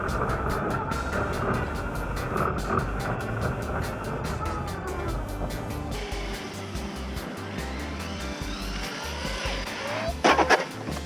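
A Traxxas Hoss RC truck running on a 3s battery pulls a wheelie and crashes: a high electric motor whine revving and shifting pitch, then a sharp clattering impact near the end, close by.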